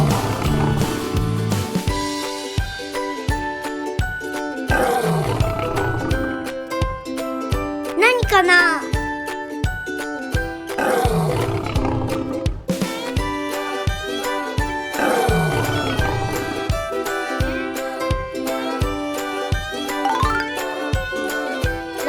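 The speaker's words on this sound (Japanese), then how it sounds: "ライオン。" A lion roars several times in a children's animal-sound quiz, with long swooping roars over cheerful, bouncy music and a brief voice speaking.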